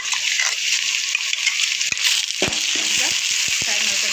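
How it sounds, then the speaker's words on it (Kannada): Ground masala paste sizzles loudly in a hot pan with chicken donne biryani ingredients, a steady, close frying hiss broken by a few sharp scrape and stir clicks toward the end. "ಈಗ ಇದು ಮಿಕ್ಸರ್ ಮಾಡ್ಕೊಂಡು ಬಂದಿರೋ ಪೇಸ್ಟ್ ಹಾಕ್ತಾ ಇದ್ದೀನಿ"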